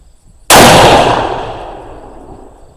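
A single loud rifle shot from a budget .280 AI rifle at an outdoor range, a sharp sudden crack followed by a long fading echo over nearly two and a half seconds, with no voices.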